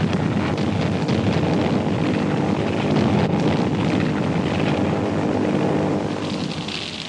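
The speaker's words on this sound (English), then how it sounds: "Nipponese planes began bombing Manila in early December." Japanese warplanes bombing Manila in early December during the Second World War give a steady, loud roar of engines and rushing air that holds for several seconds without talk.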